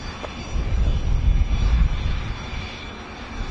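An airliner takes off at Washington Dulles International Airport, its jet engines building to a loud, steady roar and then easing slightly, with no voices.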